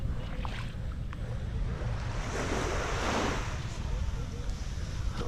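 Ocean waves wash onto the sand at Deep Bay beach in Antigua, a steady surf roar with a swelling break near the middle, mixed with wind buffeting the microphone.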